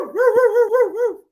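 A dog whimpers close by in a loud, wavering, high whine that rises and falls several times over about a second before breaking off.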